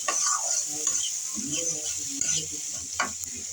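Spice paste of cashew, poppy seed, green chili and ginger gets stirred into a sizzling bata fish curry, a bright constant frying hiss with soft scraping strokes of a spoon close up, no voices.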